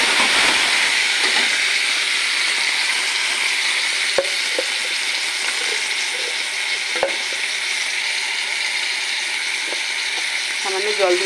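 Cut mango pieces hit a hot frying pan for a sour mango dal, giving a steady close sizzle with a few sharp clicks of stirring and no talk.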